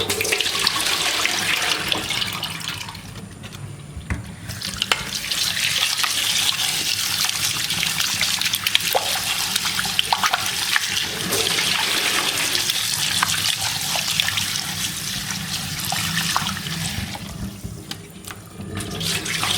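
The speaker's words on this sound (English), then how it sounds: "Let's get the fish washed, and we have to marinate the fish. Now wash the fish." Running tap water splashes steadily over raw fish being washed in a kitchen sink for a Sri Lankan fish curry. The continuous rushing and trickling stays close and fairly loud throughout, with no talking.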